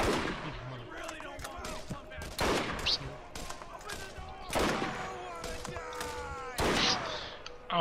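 Bursts of gunfire in Borderlands ring out in several sharp volleys at irregular intervals, with a voice speaking in between the shots.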